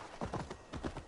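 Horse hooves clip-clop in a short run of muffled, paired thuds from the video game Assassin's Creed Valhalla. They are close and alone, with no talk.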